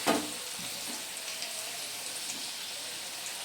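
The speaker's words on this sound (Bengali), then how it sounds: "আমি নেড়ে ছেড়ে দিচ্ছি।" Potatoes with turmeric fry in a pan for aloo katli with a steady close sizzle, with a brief stirring knock at the start and soft scrapes scattered over the hiss.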